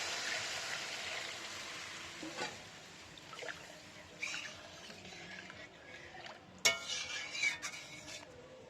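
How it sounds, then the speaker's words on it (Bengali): Hot water goes into a frying Pabda fish curry masala, a hissing sizzle loudest at the start that eases into a quieter bubble, with scattered clinks and scrapes of a utensil against the pan. "তেলটা যখন ছেড়ে দেবে তখন আমরা সামান্য পরিমাণ গরম জল দেব এর মধ্যে"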